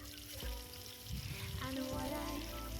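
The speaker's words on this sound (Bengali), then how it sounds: "মিডিয়াম ফ্লেমে আলুগুলো প্রায় আমি 10 মিনিটের মতন ভেজে নিয়েছি" Potato pieces frying in oil in a pan over a medium flame, a low steady sizzle with soft stirring and scraping, close and fairly quiet.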